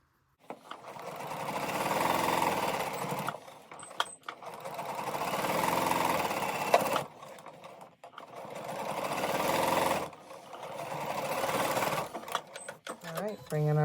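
A sewing machine stitches fabric with a quarter inch presser foot in four steady motorized bursts separated by short pauses, near and fairly loud, with a brief clatter of handling at the end.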